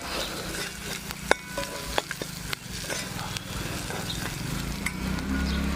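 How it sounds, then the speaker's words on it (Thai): Chili paste sizzles and fries in a pot while a utensil scrapes and clinks against the metal in irregular strokes, up close. "ต้องผัดให้พริกหอมก่อนนะครับ"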